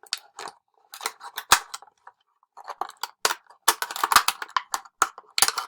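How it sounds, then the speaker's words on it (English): Scissors cutting through a plastic bottle being made into a bird feeder, a close series of sharp crisp snips and crackles in irregular bursts with short pauses between, no talking. "So once it's through, you can start cutting it."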